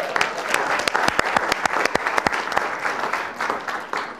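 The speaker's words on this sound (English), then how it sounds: "Round of applause." Audience at an elections summit applauds volunteers coming up for a demo, with brisk, moderately loud clapping and a few sharp near claps that gradually soften.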